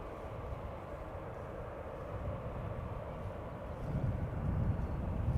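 A KLM Boeing 777-300 airliner at Schiphol Airport gives a steady, distant low jet roar that swells gradually louder toward the end, with no talk over it.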